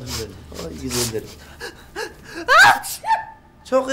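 A person sneezes close by, a sharp burst amid gasping breaths and bits of talk.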